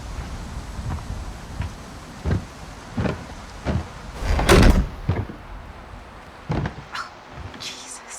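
A door opening in the video game A Quiet Place gives a series of wooden knocks and creaks with one louder rattling bang in the middle, fairly close, against a soft background hiss and no talk.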